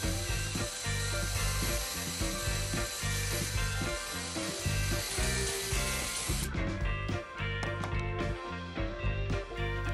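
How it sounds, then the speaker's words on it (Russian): Power drill boring and countersinking holes in a shoe sole, a loud continuous whine with repeated bursts and stops as the bit bites and releases. "Теперь делаю разметку и насверливаю отверстия,"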